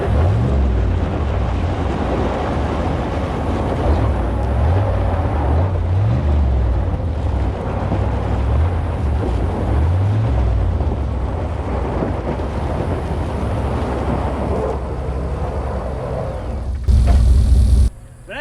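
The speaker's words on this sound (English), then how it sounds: "the Isuzu just absolutely dragged him along" An Isuzu Rodeo's engine strains while dragging a Chevy Suburban in a tug of war across a parking lot, a loud, dense low rumble with heavy roaring noise throughout, close and continuous, no talking.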